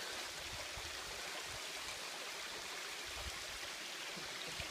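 Hemmed-in-Hollow waterfall, a 209-foot falls, roars as a steady broadband rush of falling water that is constant and unbroken, with no voices over it.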